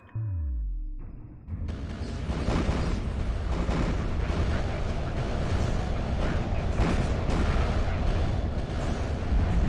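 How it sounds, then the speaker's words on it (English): A space battle in Homeworld 2 with the Point Defense Systems mod. After a short descending tone, a loud, relentless barrage of weapons fire and explosions rumbles on without pause, with faint game voices in the mix. "So much firepower going on."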